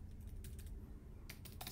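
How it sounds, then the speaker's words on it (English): Fingers type on a new computer keyboard, producing two short bursts of quick key clicks close up over a low background hum. "I got a new keyboard here, so it's a bit slow to type"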